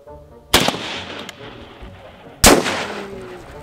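Two loud, sharp gunshots about two seconds apart in a video game, fired at a car door, each a close crack with a short decaying tail and no talking.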